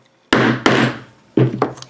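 A hammer striking a domed rivet setter on a small anvil: four sharp metallic blows in two pairs, close and loud, each with a short ringing decay, no talk.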